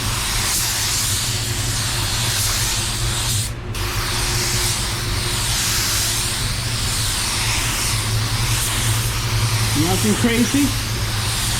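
A paint sprayer at lowered pressure lays a control coat of white paint in a continuous loud hiss that runs almost unbroken, dropping out briefly once, with someone talking over it.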